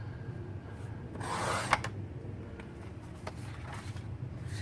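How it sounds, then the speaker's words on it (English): Paper trimmer slicing cardstock with one short rasping pass, a brief close swish over quiet room background, with a faint click or two afterward. "we're going to put this in our trimmer and we're going to cut at 4"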